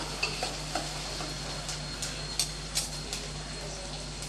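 Onions sautéing in a pan with curry leaves, a steady close sizzle with faint intermittent scrapes of stirring, no one talking.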